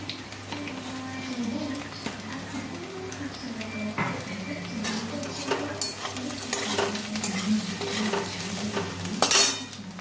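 Ground coriander, cumin, chilli and turmeric fry with boiled potatoes in a pan for a cabbage curry, a steady sizzle with repeated spoon scrapes and clinks, a voice faintly audible beneath.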